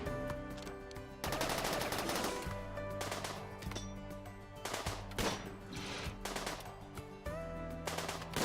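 Rapid video game gunfire in bursts of automatic fire, loud and close, with brief pauses between volleys and an underlying tonal game music bed, no voices.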